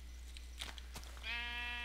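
Sheep bleating in the video game Minecraft: a single drawn-out, nasal bleat rises clearly in the second half after a quieter stretch of faint background clicks.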